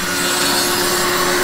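Japa 700 firewood processor cutting through a twisted timber log, giving a loud, steady, continuous sawing roar that holds without a break and with no voices.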